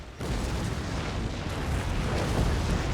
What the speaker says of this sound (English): Oh, here comes the rockets.